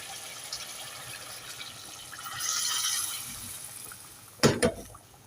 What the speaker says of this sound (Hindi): अब हम इसके अंदर ऐड कर देंगे पानी।